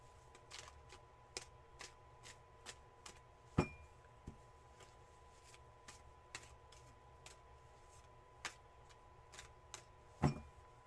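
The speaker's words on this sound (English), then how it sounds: "let me do your cleansing shuffle first there" Tarot cards are shuffled during a reading, giving faint, irregular soft clicks and riffling snaps over quiet room tone, with a couple of slightly louder taps.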